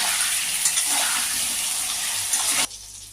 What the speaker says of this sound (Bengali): আলুটা ঢেকে ঢেকে ভেজে নেব তাহলে আলুটা এখানেই অর্ধেক ভাজতে ভাজতে সিদ্ধ হয়ে গেল